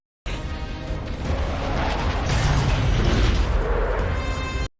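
A loud, booming explosion with a rumbling crash that swells and sustains for several seconds before cutting off abruptly.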